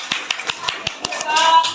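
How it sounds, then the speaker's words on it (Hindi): Scattered hand claps from a small group of children at a school quiz game modelled on Kaun Banega Crorepati, irregular taps rising into a denser patter toward the end, fairly close and modest in volume. "इनके लिए भी जोरदार तालियां"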